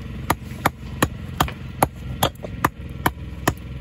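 A hammer trims the edge of a Cotswold stone for a dry stone effect wall, striking in about ten sharp, evenly spaced knocks, close and crisp.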